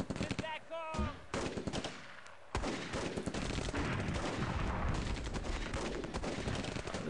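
Gunfire in the Close Combat real-time strategy game, dense bursts of machine-gun and rifle fire with scattered heavier shots, continuous and loud throughout, with a brief voice early on.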